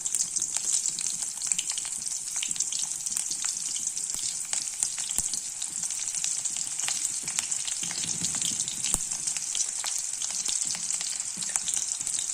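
Fennel seeds and onion frying in oil make a steady, close, high-pitched sizzle with scattered sharp crackles and pops. Faint stirring sounds run underneath and no one speaks.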